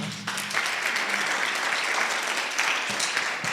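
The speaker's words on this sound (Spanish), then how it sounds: "Un aplauso." Audience applause at a church Bible lesson, a continuous full round of clapping that holds steady throughout, with a faint voice briefly underneath.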